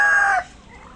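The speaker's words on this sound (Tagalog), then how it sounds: "may manok po sa taas guys" A single short, loud squawk from a chicken, close by, cutting off abruptly and leaving faint background noise.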